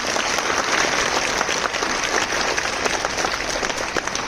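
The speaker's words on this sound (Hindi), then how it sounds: "मैं चाहूंगा उनके लिए आप लोग जोरदार तालियों के साथ स्वागत करेंगे।" Loud, dense applause from a crowd welcoming a guest at a National Sports Day 2022 event, steady throughout with no pauses.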